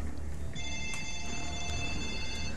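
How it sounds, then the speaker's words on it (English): A phone rings in the video game Mass Effect, a steady electronic tone holding clearly over a constant low hum of game ambience. "I hate the phone."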